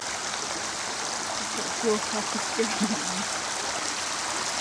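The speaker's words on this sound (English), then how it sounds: "You're just looking on mesmerised at that sight of the path turned into a stream" Water rushes steadily along a flooded footpath that has turned into a stream, close and continuous, with faint voices briefly underneath.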